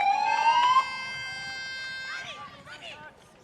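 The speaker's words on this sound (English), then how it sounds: "there's the half-time siren" A half-time siren blares at a touch football grand final, a loud sustained wail that holds steady for about a second and then fades with the crowd and a commentator's voice underneath.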